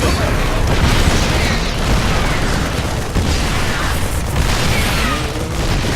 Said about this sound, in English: Listen to those guns sing. These new siege tanks work just like the old ones.